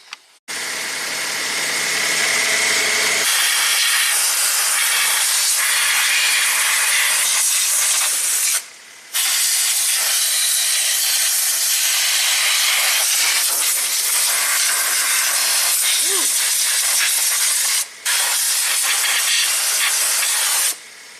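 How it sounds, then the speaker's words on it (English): Steady, loud hiss of compressed air being fed into the cooling system of a 2010 Subaru Tribeca H6 with a coolant leak, running almost continuously with two brief pauses, no talk. "Put some compressed air in here to pressurize the system and see if we can find this leak."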